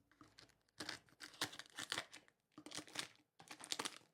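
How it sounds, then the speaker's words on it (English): A package being opened with scissors, with faint crinkling, tearing and crunching of packing material in irregular bursts separated by short pauses, close by and quiet, with no talk. "I got scissors here. Let me see. I'll open this up."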